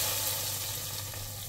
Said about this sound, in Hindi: अब जी लगने लगा है तड़का दाल को